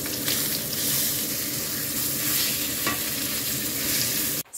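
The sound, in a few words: stirring and frying food for lunch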